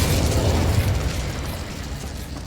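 A Confringo spell blast in Hogwarts Legacy erupts as one loud, close fiery burst that rolls off into a crackling, fading rumble.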